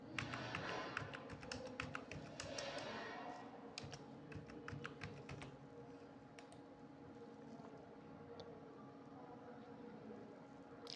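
Rapid light keystrokes on a computer keyboard while values go into a spreadsheet, clustered bursts of typing early on that thin to sparse taps over a faint steady hum.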